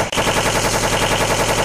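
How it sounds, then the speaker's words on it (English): A machine pistol fires one continuous rapid burst of gunfire, loud and close, with rounds rattling in a fast even rhythm after a brief gap at the start. "I got my machine pistol!"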